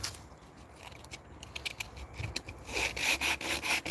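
Wood is sanded by hand with 100-grit sandpaper, giving a quiet, rhythmic back-and-forth scratching that grows a little stronger and quicker toward the end.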